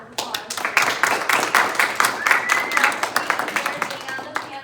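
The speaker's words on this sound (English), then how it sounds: "Let's give our panelists a hand or a round of applause." A small audience at a community panel discussion on local waters claps for the panelists, a brisk, close burst of individual hand claps that tapers off near the end.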